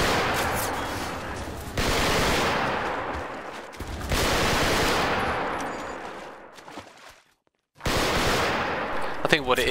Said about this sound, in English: the cone of fire accuracy on the machine guns is perhaps just a little bit too good